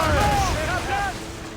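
Ship cannons booming in a naval battle in Assassin's Creed Rogue, a couple of heavy blasts mixed with shouted crew voices over continuous rumbling background.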